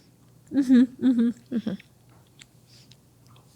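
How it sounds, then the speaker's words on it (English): A person chews food close to the microphone, making a few moist, bursty chewing and munching sounds in quick succession with a short pause between groups, then fading into quiet. "I'll let you finish chewing."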